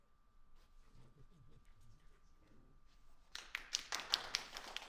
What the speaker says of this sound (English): Hey, don't clap for me.